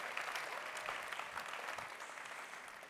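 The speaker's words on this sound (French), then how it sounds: "je crois qu'on peut tous applaudir Laurent" A conference audience at an IT event applauding, a dense, even burst of clapping from many hands lasting a few seconds in a large hall.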